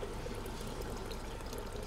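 A steady stream of water pours continuously in the Prey video game, a soft, even wash of splashing with no breaks and no voices.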